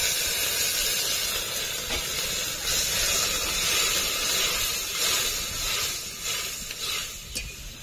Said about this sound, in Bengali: মশলা ধোয়া জলটা দিয়ে দেবো